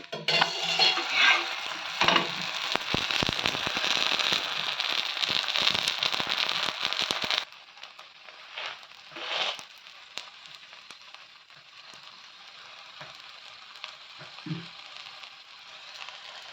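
Coconut poli frying in oil in a pan, sizzling loudly with dense crackles and pops for several seconds, then dropping to a quieter, steady sizzle with occasional spits.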